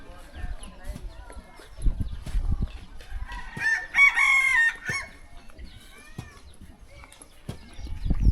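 Chickens cluck and a rooster crows loudly midway, with scattered thumps and background voices around the birds.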